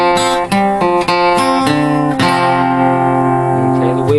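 The opening bar of the flat-picking section is played on acoustic guitar: crisp picked notes with pull-offs and ringing open strings move in a lively rhythm. A stronger strum near the middle lets the strings sustain. The guitar is close and alone.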